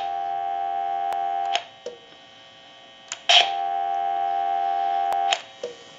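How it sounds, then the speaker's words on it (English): Telephone dial tone: a steady continuous hum tone that breaks off and resumes several times, with sharp clicks and short bursts at each interruption. "I'll go ahead and give you some dial tone."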